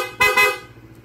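A car horn blares twice in quick succession while the vehicle is being driven, two short loud honks close by over low engine noise.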